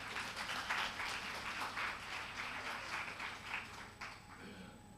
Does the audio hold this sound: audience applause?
yes